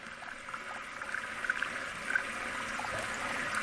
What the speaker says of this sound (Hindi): पानी की आवाज आ रही है आपके पीछे से।